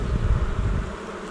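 Honeybees buzzing around the hive after two warm days in spring, a dense steady low drone that fills the whole moment, close and fairly loud, thinning slightly near the end, with no voices.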